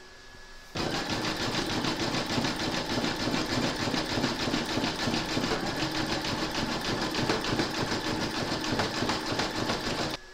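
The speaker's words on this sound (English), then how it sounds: "you're now going to stitch round number six and that's going to do the satin stitching around the uh, border of the ears." An embroidery machine satin stitching around the border of ears on a drawstring bag, starting after a short quiet moment and then running steadily with a rapid, even mechanical chatter close by, no voices.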